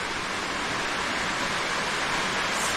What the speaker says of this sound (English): when I'm in here and it's raining, it actually gets quite loud because of the metal roof